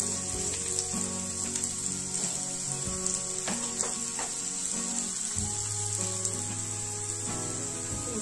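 Spiny gourd (kartule) sizzles steadily in a pan over the stove, a continuous close frying crackle with occasional clinks of a utensil against the metal.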